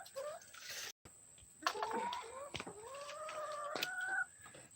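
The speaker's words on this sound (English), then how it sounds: "the chickens are right there" Chickens cluck nearby on a property, with rising clucks and crowing-like calls over a steady background hum and a few sharp knocks.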